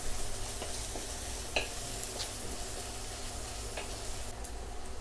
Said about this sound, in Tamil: ரசம் பவுடர் எல்லாம் போட்டு நல்லா ஃப்ரை பண்ணியாச்சு